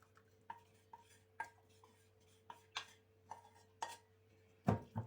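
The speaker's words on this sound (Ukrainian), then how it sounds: "Все замішуємо ложкою, як зазвичай." Soft, evenly spaced taps and clinks of a spoon against a bowl while mixing cookie dough of flour, warm milk mixture and egg, with a louder knock near the end, quiet room.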